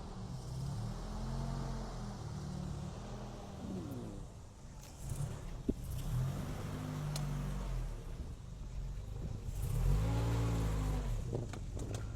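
A car rolling over a fiberglass electric-fence post, its engine revving and surging in several waves, close and loud, with a brief sharp knock partway through.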